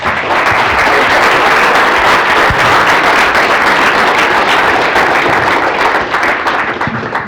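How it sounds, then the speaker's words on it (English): Sustained audience applause fills a meetup talk room for several seconds, a dense, steady wash of many hands clapping with no speech over it. "another round of applause for Hayden"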